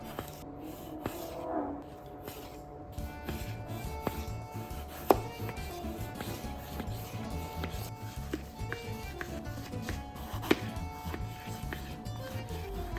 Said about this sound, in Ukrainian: будемо нарізати томати